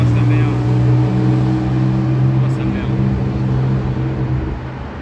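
A Ruf CTR Yellowbird drives along a Paris street, its engine a loud, steady drone that stays close for several seconds before easing slightly, with traffic and city noise around it.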